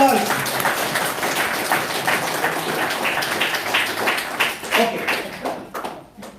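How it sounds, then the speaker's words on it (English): Audience applause in a church gathering, a dense patter of clapping that holds steady and then thins out and fades toward the end. "Let's give a round of applause."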